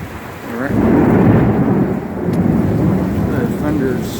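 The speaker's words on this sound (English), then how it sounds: "The thunder's way over there now." Thunder rumbles long and loud in a summer hailstorm in Central Florida, a deep rolling roar over steady rain and hail on surfaces, swelling and easing across the clip with no talk.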